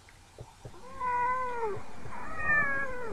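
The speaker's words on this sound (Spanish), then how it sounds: "una gata de muy malas pulgas" A cat lets out two long, drawn meows in close succession, loud and near, after a couple of soft taps, with steady background hiss throughout.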